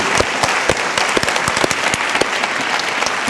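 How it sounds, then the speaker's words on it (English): Steady, dense applause from a sizable crowd, loud and continuous throughout with sharp individual claps standing out. "Let's give him the warmest applause that we have for him."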